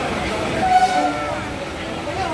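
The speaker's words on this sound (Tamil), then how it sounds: "2 ட்ரெயின் பக்கத்துல கிராஸ் ஆகுது" Two trains pass each other at close range, heard from inside a moving train as a dense, steady rumble with a brief horn-like tone partway through.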